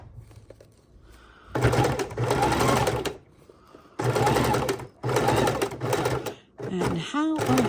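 A sewing machine stitches a paper junk journal cover in several loud, rapid whirring bursts separated by short pauses, with light handling noises between runs.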